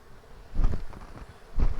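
Honey bees buzzing around a hive on a farm, a low droning hum that swells in two louder bursts as bees pass close, fading between them.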